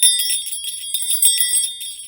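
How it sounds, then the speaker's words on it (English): A magical silver bell rings with bright, high, shimmering tones in quick repeated jingles, close and clear with no talk. "a magical silver bell."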